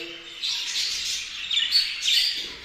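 Pet budgerigar chirping in a cage among other birds, a run of bright, scratchy warbles and short squawks close by, continuous and fairly soft with no talk over it.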